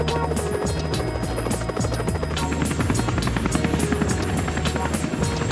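Loud, close police helicopter rotor thumping in a rapid steady rhythm with engine whine, continuous throughout with no talking.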